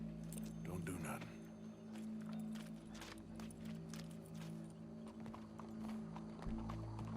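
Horse hooves clip-clopping in Red Dead Redemption 2 game audio, steady and moderately loud under continuous talk and a low droning background, with a possible brief whinny.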